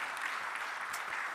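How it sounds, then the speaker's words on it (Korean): A church congregation applauds the ministry workers and panelists, a brief, steady patter of many hands heard from a distance, fairly quiet and without speech. "자, 이 귀한 사역자분들을 패널들 위해서 우리 박수 한번 할까요?"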